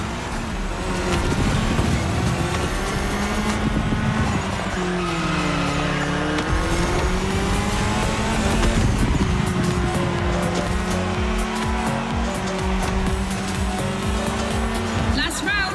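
Rally cars including an Audi S1 EKS RX Quattro and a Ford Puma Hybrid Rally 1 racing in the video game The Crew Motorfest, engines droning and shifting pitch with tire squeal, under continuous commentary.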